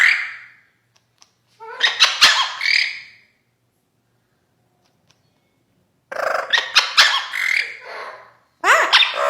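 Amazon parrot squawking loudly indoors: harsh, piercing bursts of calls in two or three long outbursts separated by silence, very close and with no talking.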